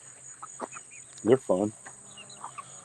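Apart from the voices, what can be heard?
large chickens clucking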